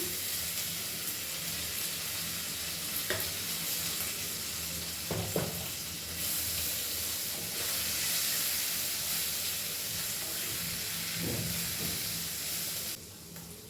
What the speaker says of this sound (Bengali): এবার আদা দিয়ে দেবো, এই এতটা আদা ঘষে রেখেছিলাম।